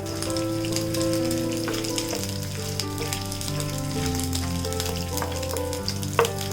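Coconut pieces fry in a pan for Kerala-style beef ularthiyathu, giving a steady, close sizzle with occasional spatters and stirring clicks, and no voices.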